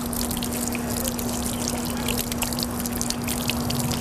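Water trickles and pours steadily from a soap and water dispenser built into a car, a continuous splashing stream with a faint steady hum beneath it.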